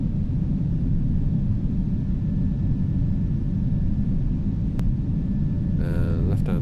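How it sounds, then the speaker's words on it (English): Airliner engines accelerating after takeoff in Microsoft Flight Simulator 2024, a continuous loud low rumble and roar that stays steady throughout, with a short beeping cockpit tone near the end. "Let the plane accelerate."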